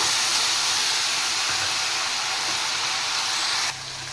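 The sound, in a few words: whole dried chillies, bay leaves and spices frying in oil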